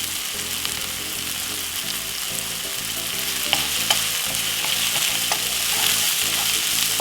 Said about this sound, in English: As you can see, I saute off my mushroom now with the white onion.